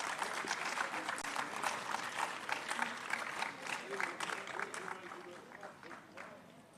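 Applause from an audience at an army quiz competition, a dense wash of many hands clapping that stays loud and fairly steady, then eases slightly toward the end, with crowd murmur mixed in.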